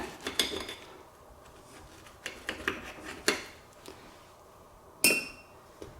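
A knife cuts diagonally through a shrimp and avocado sandwich, giving a series of crisp clicks and taps as it presses down and meets the board. A louder, ringing knock comes near the end, with no one talking.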